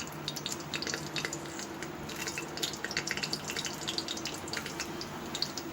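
Cumin seeds sizzling in hot oil for khichdi, a steady close crackling fizz with scattered pops running throughout, no voices.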